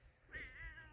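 A house cat gives a single short, rising-and-falling meow, fairly close and clear over a low background rumble, with no talking.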